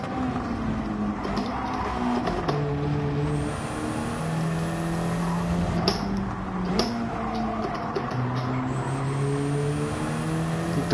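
A race car engine in a racing video game drones loudly and steadily, its pitch climbing and dropping through gear changes, with brief sharp shifts and no talk over it.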